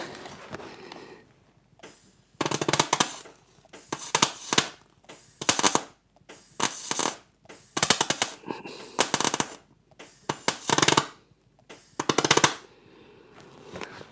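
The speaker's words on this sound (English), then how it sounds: "Oh, this welder sometimes, honest. Plays up something rotten." An expensive German welder that is playing up spits out loud, irregular bursts of crackling arc noise, each lasting under a second, separated by short quiet gaps.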